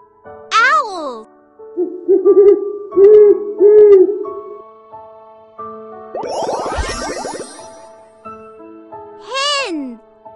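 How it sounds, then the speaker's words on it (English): An owl hoots several times in short, clear, tonal calls, closely miked, interspersed with other bird calls and a voice speaking. "Owl."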